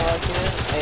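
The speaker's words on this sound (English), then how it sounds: "Just sniping zombies from far away" Sniper fire in Call of Duty: World at War zombies sounds as a dense, loud stretch of shooting with rapid pulsing bursts and no pauses.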